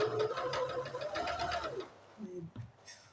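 A new MAC sewing machine, a 700-euro model, runs a fast, rhythmic stitching burst on a gathered dress for almost two seconds. It then stops, followed by a few soft clicks and handling noises close by.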